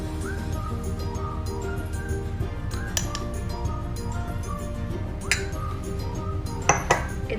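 Cornflour and maida are added to chicken for lollipops and mixed in a bowl: continuous clinking and scraping of utensils against the dish, close and busy, with no talking.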